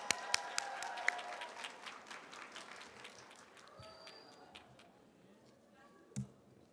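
Audience applause for a K-pop dance club at a forum event, a scatter of sharp claps that thins out and fades, with a voice speaking faintly underneath.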